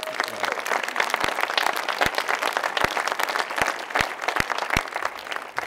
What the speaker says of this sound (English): let's give all of our award winners one more round of applause for all their